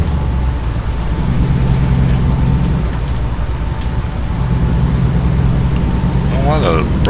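An air brake hisses on a truck in American Truck Simulator, loud and close over a steady engine rumble, with a person talking over it.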